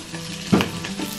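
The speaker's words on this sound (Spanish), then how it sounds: "miren qué doradito se ve el arroz, se está friendo" Rice fries in a pan as the base for red rice with chorizo, a steady close sizzle with a brief stirring scrape in the middle, no talking.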